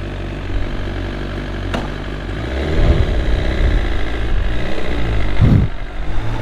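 A BMW S1000RR motorcycle ridden in sport mode gives a loud, steady engine drone mixed with rushing wind, swelling slightly partway through with brief low surges.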